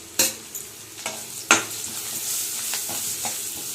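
Chili powder frying in a pan, a continuous sizzle punctuated by several sharp spoon scrapes and knocks against the pan, the loudest early on.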